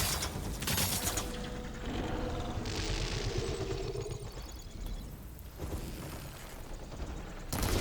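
Gunfire and fiery weapon shots aimed at an enemy in Horizon Forbidden West, with traps set. The bursts are continuous and loud across the whole stretch, and engine-like machine noise and clatter mix in.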